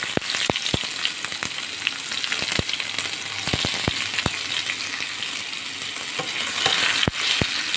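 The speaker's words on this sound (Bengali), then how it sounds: "এবার এই তেলের মধ্যে আমি পেঁয়াজ ভাজতে দিয়ে দেবো।" Onions sizzle and crackle in hot oil that has already fried fish, a steady frying hiss punctuated by sharp clicks of a utensil stirring against the pan.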